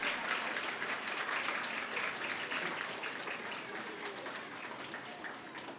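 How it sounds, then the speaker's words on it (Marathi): A Pune audience at a children's wildlife festival event applauds a guest with sustained, dense clapping that stays steady and loud from start to finish, with no talk over it. "जोरदार टाळ्या."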